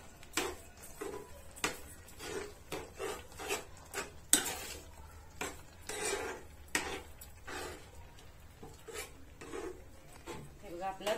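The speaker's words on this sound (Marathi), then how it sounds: "आता एकसारखं ढवळून घ्यायचंय" Bottle gourd halwa with sugar being stirred in a pan, with repeated scraping and knocking strokes in an uneven rhythm, moderately close.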